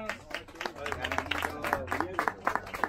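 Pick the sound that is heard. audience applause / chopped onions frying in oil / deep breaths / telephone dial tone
audience applause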